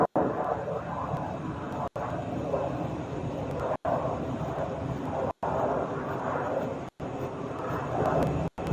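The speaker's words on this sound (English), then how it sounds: "That is definitely a drone." A mysterious low-flying drone passes overhead at night, a steady broadband engine drone holding throughout at moderate loudness, broken by several brief dropouts.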